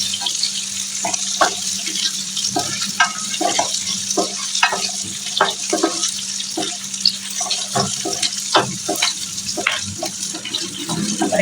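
Fennel, cumin and cinnamon sizzle in hot oil for a soya gravy, a dense crackling hiss with frequent sharp pops and spoon scrapes throughout, plus a low steady hum underneath and no talking.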